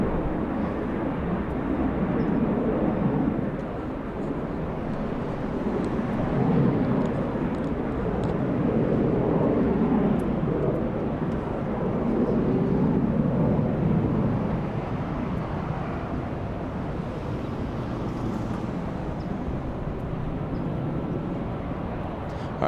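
Southwest Airlines jet lined up on runway 24 left at Los Angeles International Airport, bound for Dallas: a steady, broad low engine rumble with some wind noise, continuous and moderately loud throughout, swelling slightly in the middle.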